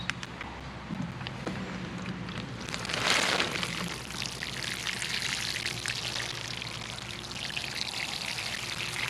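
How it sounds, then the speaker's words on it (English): Water pours onto potting soil around newly planted lettuce or Swiss chard with a hissing, trickling rush that swells briefly, then settles into a steady soaking patter. "And give it a good soaking of water."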